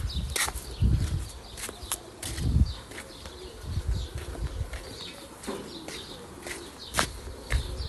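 A sick pigeon roosting in an old ruin gives low, soft cooing calls in a few spaced bursts, close by, with light rustling and faint clicks in between.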